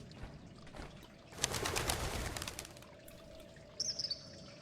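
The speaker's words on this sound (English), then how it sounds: "The bird was unafraid when you entered, but as you approach it becomes disturbed." A little bird in the Colossal Cave game chirps and stirs as it grows disturbed, with a burst of flapping wings and a few short tweets near the end over a steady ambient background.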